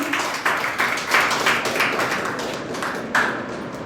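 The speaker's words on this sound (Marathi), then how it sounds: "जोरदार टाळ्या झाल्या पाहिजे" Audience applause at a Women's Day felicitation ceremony, a dense, steady clatter of many hands clapping that swells in a few bursts.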